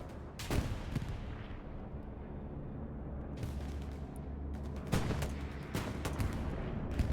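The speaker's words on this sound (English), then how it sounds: "Here comes the bombing run." A bombing run in a World War II game drops several sharp, loud blasts at the start and in a cluster near the end, with a constant low rumble of battle underneath.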